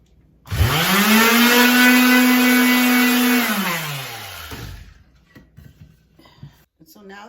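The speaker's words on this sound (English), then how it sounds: "I'm going to start sanding that down. And I have my sander." An electric sander works the edges of a wooden shelf, its motor whine quickly spinning up, holding steady for about three seconds, then winding down into quiet rustling and small knocks.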